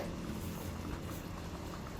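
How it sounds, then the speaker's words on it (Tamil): Pepper chicken masala curry bubbling in an open pan after water is added, a soft, steady simmering burble throughout. "நம்ம தண்ணி ஊற்றினதுக்கப்புறம் ஓப்பன் லிட்டாகவே ஒரு கொதி வருது."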